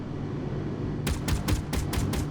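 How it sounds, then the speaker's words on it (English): A rapid burst of gunshots in the video game Space Engineers starts about halfway through, six or seven sharp cracks in quick succession over a steady background hum. "That sounded like gunfire."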